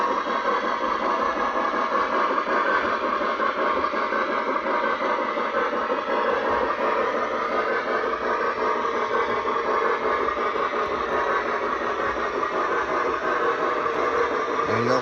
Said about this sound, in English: we're going to catch up with the train now